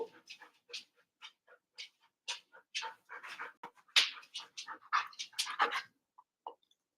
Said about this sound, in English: Yes, that's my dog.